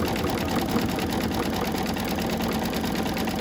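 Sewing machine stitching back over a snowman quilt block, a fast, even mechanical whir with rapid needle ticking, close and steady throughout, no voices.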